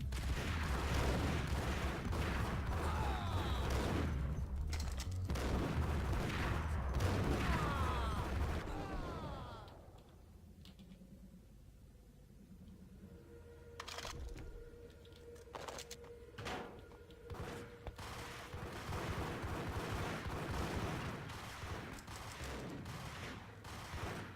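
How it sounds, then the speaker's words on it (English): Gunfire in the video game Max Payne, with dense bursts of shooting and impacts filling the first half, then scattered sharp shots and clanks over a quieter background. "They were just shooting at the wall, as you do."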